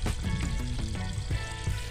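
Water poured onto a gunda plant in a village yard, a close, continuous splashing and trickling stream with a sizzling, gurgling texture that pulses slightly as the flow shifts, no talking.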